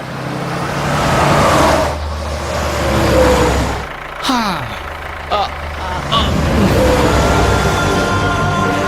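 A vehicle in a dramatic street scene pulls away, its engine rumbling steadily and then revving up with rising whines. The sound is loud and close, mixed with background noise and a few sharp knocks.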